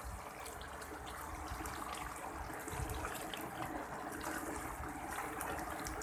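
Warm water pours into mutton curry cooking in mustard oil, a soft, continuous trickle and gurgle at low level over a faint background hum.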